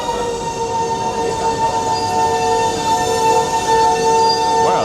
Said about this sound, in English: Wow, the big train.